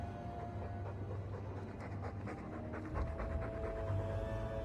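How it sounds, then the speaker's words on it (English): Steady rhythmic dog panting in a video game, quick breaths in and out continuing throughout, fairly quiet against a low background hum. "All that noisy dog breath,"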